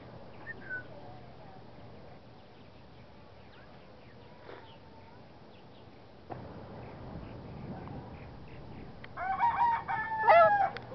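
A parrot calls with a few squawks and whistles, then a louder burst of harsh, rapid calls near the end, close, amid quiet room noise.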